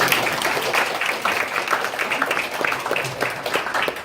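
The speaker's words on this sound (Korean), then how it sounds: "전체적으로 박수 한 번 부탁드리겠습니다." Hackathon attendees at Dankook University give a round of applause, a moderately loud and dense patter of clapping that holds steady throughout.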